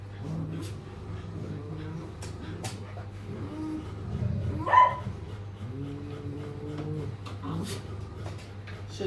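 Stray dogs at a shelter yip and bark in scattered, short bursts over a constant low hum. One louder bark comes near the middle, and faint voices can be heard in the background.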